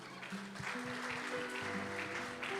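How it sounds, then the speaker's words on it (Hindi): Applause at a church youth Christmas celebration, soft scattered clapping heard faintly beneath sustained organ or keyboard chords. "खुदावन के कलाम के लिए भरपूर तालियाँ।"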